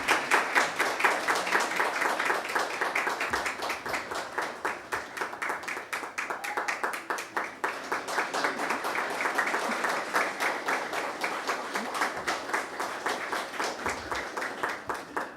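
An audience applauds an awardee at a remarkable-teens awards sitting in St. Kitts and Nevis, dense steady clapping holding for the whole stretch at an even level with no speech over it.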